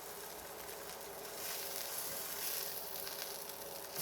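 A grilled cheese sandwich frying in a pan sprayed with cooking spray gives off a steady, close sizzle, a broad even hiss that swells a little midway, with no voices.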